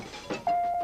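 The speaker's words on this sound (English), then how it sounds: "Answer the doorbell." Doorbell rings once inside a house, a sustained bright electronic chime that starts abruptly and holds steadily to the end, loud and alone.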